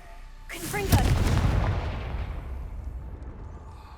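In Hogwarts Legacy, a Confringo blasting spell fires with a rising whoosh that bursts into a loud, booming explosion, then rumbles and fades away over several seconds.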